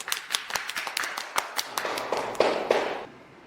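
Sparse, irregular hand claps from a few people congratulating someone at a workplace, distinct individual slaps spaced unevenly and then fading to quiet near the end, with faint voices underneath.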